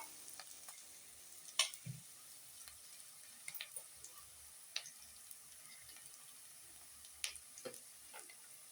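Curry leaves sautéing in a pan give a faint, low sizzle with scattered soft pops, ticks and the occasional clink of stirring, quiet and close with no voices.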